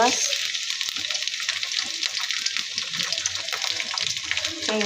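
Steady, loud sizzling of shrimp frying in hot oil with fried onion, a dense crackling hiss that continues without pause, with faint background voice-like murmurs.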